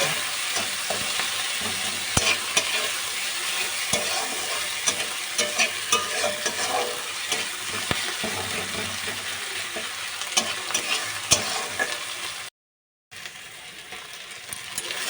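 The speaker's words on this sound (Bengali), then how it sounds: "তারপর ওর মধ্যে রসুনের পেস্টটা দিয়ে দিচ্ছি। দিয়ে একটু নাড়াচাড়া করে নেবো।" Garlic paste sizzles and fries steadily in a hot pan while being stirred, with frequent clicks and scrapes of the spoon against the pan throughout and a brief drop-out near the end.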